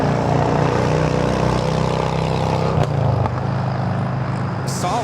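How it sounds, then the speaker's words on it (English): An Asiana Airlines Airbus A380 taking off from Los Angeles LAX, a loud, close engine roar with layered droning tones that stays strong, then eases slightly toward the end. "We're looking at Asiana Airlines 201 taking off to Seoul on the A380."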